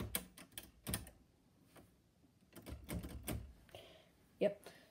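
Manual typewriter keys struck in quick irregular bursts with sharp mechanical clacks as the carriage spaces forward, fairly close and moderately loud, separated by short pauses.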